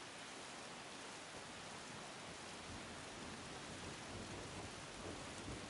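Constant heavy rain falls in the game Sifu, with a continuous hissing wash and faint low rumbles beneath, steady and with no talking.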